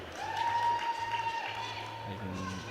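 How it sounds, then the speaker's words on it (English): Irish crowd cheering and applauding for a lifter at a European sub-junior and junior classic powerlifting championship, a steady distant roar of clapping and shouts with an announcer talking over it. "Even having the Irish crowd cheering for him."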